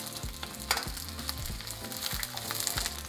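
Chopped onion and three garlic cloves fry in oil for a seafood soup base, a soft continuous sizzle running under background music with a steady pulsing beat.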